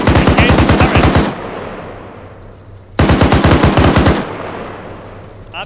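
Turret-mounted machine gun in a military video game fires two long rapid bursts, loud and close, with a quiet pause between them.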